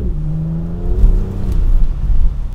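A car engine revs while driving, a close, loud rising hum that climbs in pitch then settles into a rumbling whir over a couple of seconds.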